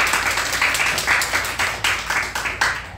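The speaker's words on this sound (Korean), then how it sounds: "우리 서로 박수하며 기도하겠습니다" A church congregation at a New Year's service clapping together in a steady, rhythmic beat, loud and close, filling the whole stretch without talking.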